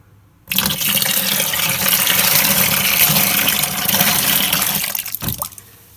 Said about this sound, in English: So I'm gonna put some warm water on top of the yeast.